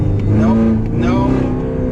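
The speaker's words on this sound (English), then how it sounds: "somebody revs the engine when I'm talking to my boss" A Camaro ZL1's engine rumbles and revs steadily for two seconds, its low drone rising slightly in pitch, close and fairly loud.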